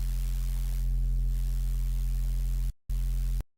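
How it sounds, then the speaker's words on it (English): Synthesized phase blend sub bass with soft or hard clipping, a deep steady low tone held loud with a faint noise layer above, briefly cut off once before resuming and stopping abruptly. "But my go-to sub is a phase blend sub."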